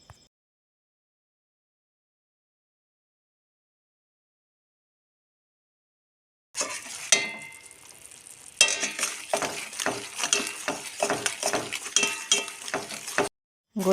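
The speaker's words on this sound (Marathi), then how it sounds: "हे बघा, इथे गुळाला उकळे आले." Thick jaggery syrup for Kokan-style ladoos bubbles in a pan, starting after several seconds of silence as a soft simmer and turning into busy bubbling with repeated scraping and clinking of a stirring spoon, close and moderately loud.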